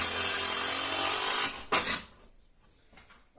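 A power driver strains to sink screws into very hard eucalyptus wood, a loud sustained whine that cuts off abruptly, followed by a short burst and faint clicks.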